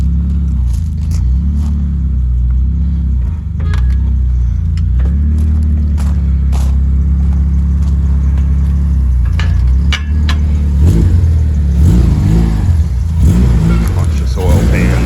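A Honda Civic with a K-series engine runs on a dyno, a loud, close engine drone that rises and falls in pitch as it revs, with people talking over it.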